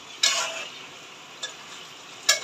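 Greens cooked with rohu fish and pumpkin in a pan: a soft background sizzle broken by three short scraping stirs, the first longest, close and fairly loud.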